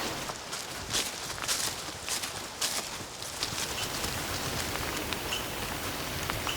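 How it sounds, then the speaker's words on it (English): Steady rain patters continuously on a surface in Wyoming, a dense hiss with scattered sharper drops and no voices. "It's raining, as usual"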